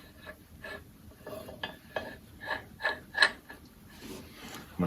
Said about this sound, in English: I'm going to push back on this impeller, snug it down.